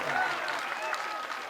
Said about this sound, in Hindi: अब जिसको ताली बजाना है बजा लो।